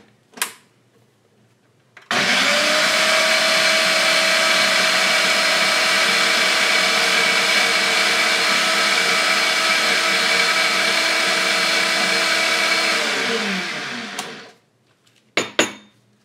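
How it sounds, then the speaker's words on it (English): A blender whirs loudly and steadily for about twelve seconds while mixing a vegan Caesar salad dressing, then winds down, with a few clunks of handling before and after. "then back on the blender."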